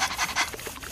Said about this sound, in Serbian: Dobra kuca, dobar Rafi